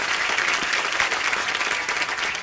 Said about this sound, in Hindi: बाईचुंग के लिए जोरदार तालियां